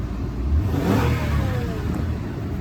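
An Acura car engine, sold at a dealer-only auto auction, revs steadily after a smooth start, a loud mid-pitched whir with a rising sweep, continuous and close.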